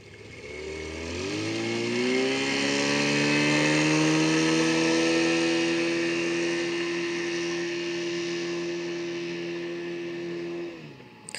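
Small boat with a Suzuki 9.9 outboard motor getting up to planing, the engine revving up and holding a steady high drone, heard alone and fairly close before trailing off.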